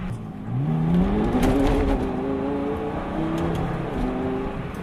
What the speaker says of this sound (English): Barely any throttle at all, and the tires spin.